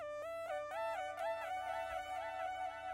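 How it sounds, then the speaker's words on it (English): A bright synth lead plays a short stepping phrase through a wide stereo delay in ghost mode, so each note repeats in echoes that smear and diffuse into a continuous, shimmering wash. "Basically this ghost mode is like a really stereo delay, so with this delay it sounds like this."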